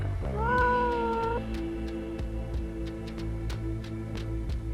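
A cat in a room lets out a single drawn-out, tonal meow close by, followed by quieter scattered clicks and taps against a low background hum.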